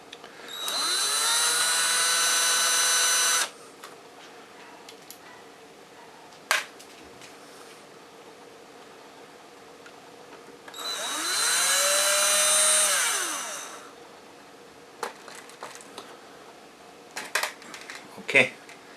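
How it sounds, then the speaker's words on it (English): A small electric screwdriver whirs in two bursts of several seconds each while screws are taken out of a monitor's casing. Quiet clicks and light metallic taps of loose parts fall between the bursts. "I think I removed all the screws that are holding this stuff together here"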